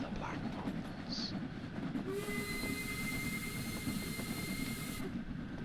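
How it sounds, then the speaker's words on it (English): In the Cornish steam setting of Train Sim World 3, another steam train passes close by with a sustained whistle of about three seconds over the constant clatter and rumble of the rails. "Oh, another steam train!"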